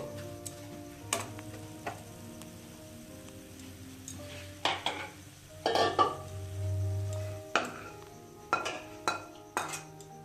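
Roasted mawa being scooped into a vessel: sharp metal clinks and scrapes of a spoon against pots come in irregular bursts, close and fairly quiet, with a soft low rumble partway through and no talking.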